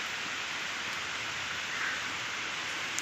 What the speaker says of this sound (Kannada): ಮಳೆ ಬರ್ತಿದೆ ನೋಡಿ